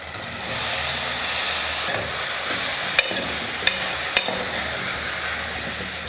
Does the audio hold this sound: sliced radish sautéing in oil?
yes